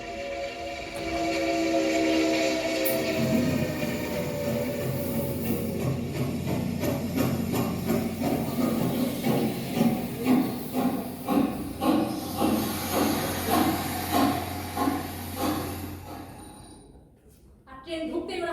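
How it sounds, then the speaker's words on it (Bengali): A steam train pulls into Chandpur station late on a foggy December night: a steady hiss of steam gives way to loud, rhythmic chugging puffs that slow and fade before a brief quiet. "চাঁদপুরে ট্রেন ঢুকলো।"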